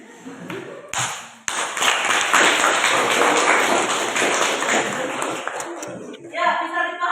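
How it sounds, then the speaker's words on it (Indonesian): Classroom applause from students, a dense, sustained patter of many hands clapping for about five seconds after a sharp tap, then tapering off into voices. "Ya, tepuk tangan."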